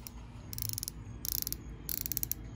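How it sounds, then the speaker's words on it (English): The adjustment turrets on a Cabela's Covenant 7 tactical rifle scope are turned in three short bursts of rapid, crisp ratcheting clicks, close and distinct over a quiet low background hum. "I know a lot of people really get off on listening to people check the turrets on the scope"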